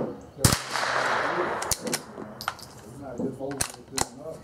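Several sharp .22LR gunshots at an outdoor shooting session, spaced irregularly, with a person talking quietly between the shots.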